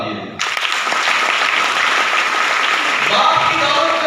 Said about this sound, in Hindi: मैं चाहूंगा कि ऐसे सुपुत्र के लिए जोरदार तालियां